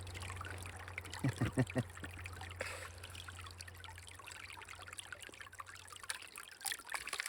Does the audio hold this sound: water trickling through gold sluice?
yes